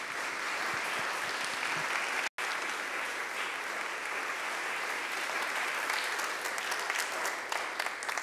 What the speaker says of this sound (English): It's always good to get applause at the start